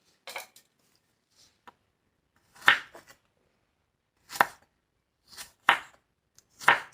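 Knife chopping jalapeno peppers on a cutting board, heard as sparse clusters of sharp, close cuts with pauses between, no talking.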